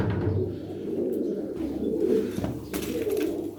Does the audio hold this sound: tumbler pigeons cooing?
yes